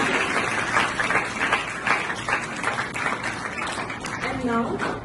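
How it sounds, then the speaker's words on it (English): Applause from an audience at a school event for students who have just performed, steady clapping heard under a voice talking over a microphone. "So give a big round of applause for these students."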